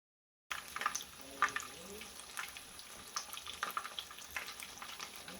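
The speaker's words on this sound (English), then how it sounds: "when the oil gets sufficiently hot, add in the chicken. Let it cook for a few minutes on either sides" Breaded chicken katsu fries in hot oil in a frying pan, giving a quiet, steady crackle and sizzle with small pops throughout.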